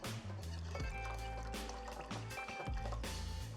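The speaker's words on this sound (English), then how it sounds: "Pour in our tomato sauce." Tomato sauce poured into a pot of chicken bouillon broth, a steady glugging liquid pour with low bubbling gulps running through the whole stretch, close and fairly loud with no talking.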